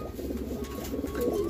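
Pigeons cooing in a loft where a champion one-loft-race breeding pair is kept, soft low throaty coos repeating close by over a quiet background, with no speech.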